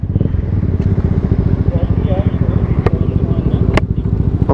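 A motorcycle engine runs steadily and close by with a continuous low throbbing rumble throughout, while people talk over it.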